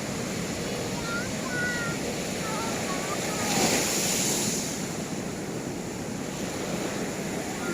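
Ocean waves break on a beach during rain and strong wind, a steady broadband roar of surf and gusts with a louder surge midway, faint voices barely audible.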